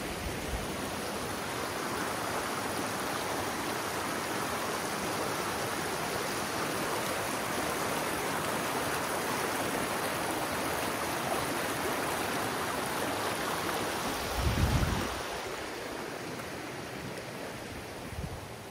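Gorge Creek flowing steadily in a wildland park, a constant broad wash of water rushing over rocks, close and even throughout, with a brief low bump near the end.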